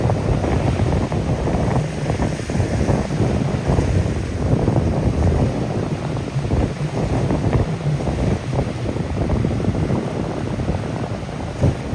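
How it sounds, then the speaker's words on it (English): Waves wash onto the stones of a remote beach at Cape Arid, a continuous rolling surge with rhythmic swells, heavily mixed with loud wind buffeting the microphone. "Just the sound of waves hitting the stones."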